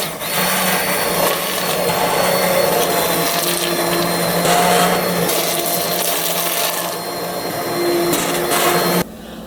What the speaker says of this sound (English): So I'm gonna blend it with the immersion blender